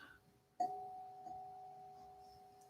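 A meditation bell struck once, a clear ringing tone that starts sharply and sustains with a slow fade, soft and alone in a quiet room.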